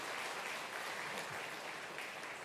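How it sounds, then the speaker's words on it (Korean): A church congregation at a Sunday service claps to welcome a newly registered member, with a steady, even wash of applause heard from within the room. "일어나 주시면 박수로 환영하겠습니다"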